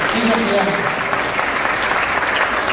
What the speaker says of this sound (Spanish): Muy bien, un aplauso bien para Leo.